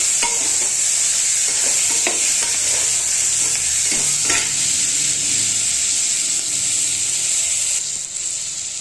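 Green peas sizzling as they are stirred into rice in a frying pan for tempered rice, a steady close hiss broken by scraping spoon strokes, with no talk.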